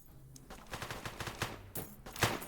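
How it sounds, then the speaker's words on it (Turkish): Rapid bursts of police gunfire crackle through a bank robbery video game, dense automatic shots spread across the whole stretch with sharper cracks standing out, no voices over them. "Polis sıktı"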